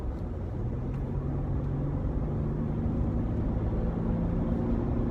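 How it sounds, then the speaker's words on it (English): Low, steady diesel engine drone from inside or beside a 2018 Ford F-150 diesel pickup, rising gently in pitch as it revs a little, quiet and smooth without voices. "I'm gonna put my foot in it just a little bit to hear the engine rev noise"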